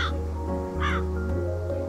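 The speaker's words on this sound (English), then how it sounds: "We have Ronan the Raven" Ronan the raven in the game Calico gives two harsh caws, close and loud, separated by a short gap, over a steady low musical backdrop.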